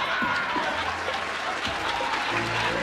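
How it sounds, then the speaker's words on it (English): A short burst of clapping, dense and steady like a round of applause, with a voice talking faintly underneath. "It's like a round of applause."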